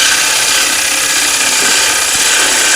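A drill press bores a hole into the rim of a wooden platter, giving a steady, loud whirring grind that holds constant throughout, with no voices.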